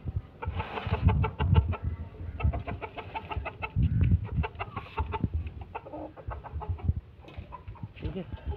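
Hens cluck and squawk busily at feeding time in a farmyard, overlapping close calls with a rooster-like cry mixed in.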